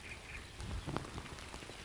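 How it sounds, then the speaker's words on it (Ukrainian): Sudden heavy rain pouring down during carp fishing outdoors, a steady dense hiss of drops striking water and surfaces, fairly faint and continuous throughout. "От за секунду, навіть за секунду пішов дощ. І дивіться, такий дуже-дуже потужний."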